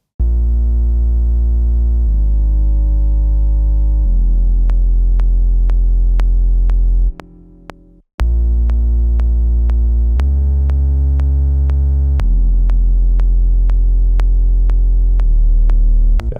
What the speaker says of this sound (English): And then I just recorded on my Moog grandmother, playing some simple notes, following the progression